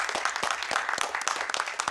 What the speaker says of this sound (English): Round of applause for Rod.